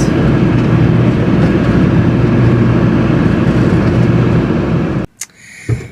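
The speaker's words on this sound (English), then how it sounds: "Look at all the military planes." Military planes flying overhead make a loud, steady roar that lasts about five seconds and then cuts off abruptly, leaving a few faint, brief sounds.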